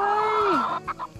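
A hen gives a loud, close, drawn-out cluck that slides downward, followed by a few short softer clucks, with footsteps or handling noise and no talk.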